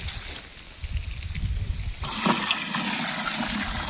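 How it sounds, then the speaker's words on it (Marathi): Water switched on and rushing through the pipes of a drip irrigation system feeding an old tomato plot, a low steady gush that swells louder partway through and then keeps flowing with no talk. "घेतले पाणी चालू करून."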